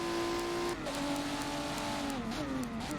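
Race car engine from a racing game at Brands Hatch, a loud continuous drone whose pitch drops at one shift and then wavers as it revs, with no talk.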